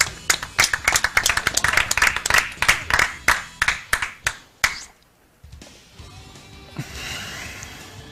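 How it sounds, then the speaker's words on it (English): Crowd of an audience at a live speedrun marathon event claps in a burst of applause that fades out after several seconds, followed by a quieter room. "I think it deserves an applause after this one"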